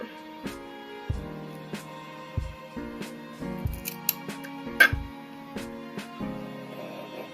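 Scissors trimming hair bangs, a series of close, crisp metallic snips in an uneven rhythm, each cut with a short ringing scrape, with no talking.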